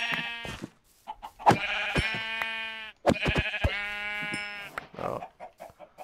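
Repeated loud Minecraft sheep bleats, sharp and nasal, several overlapping cries close by, with brief clattering sounds between them.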